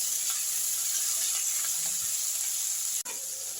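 Tomatoes with a little salt fry in a pan for a green moong dal tadka, giving a steady close sizzle with faint stirring scrapes and a brief sharp knock near the end.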